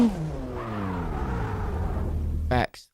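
A car engine revs on a city street among big cars, a sustained rising and falling roar with harmonic whine, cut off abruptly near the end by a short burst; people talk faintly underneath.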